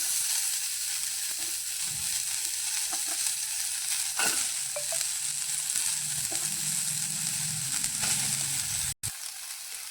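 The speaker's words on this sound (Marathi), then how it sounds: "तीळ थंड होईपर्यंत आपण कांदा फ्राय करून घेऊया." Onion frying in oil in a pan sizzles steadily and fairly close, with occasional stirring clicks and scrapes over the hiss.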